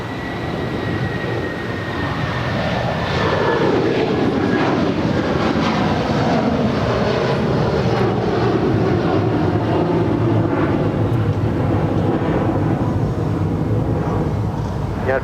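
A JetBlue airliner on runway 25 left at LAX gives a loud, steady jet roar with a slowly shifting engine whine that holds for the whole stretch, with faint voices underneath.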